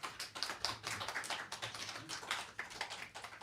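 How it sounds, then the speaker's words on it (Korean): A church congregation claps steadily for a few seconds, a dense patter of hands with no voices on top. "다시 한번 박수로 환영하겠습니다"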